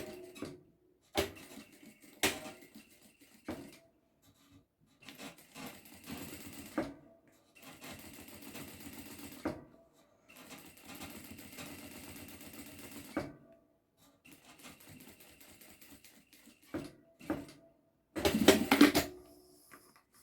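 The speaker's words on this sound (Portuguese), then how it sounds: "eu vou passar uma costura aqui reta" A domestic sewing machine runs a straight seam on a fabric triple wallet in neutral thread, quiet stitching runs of a few seconds separated by pauses and small clicks, with no talking.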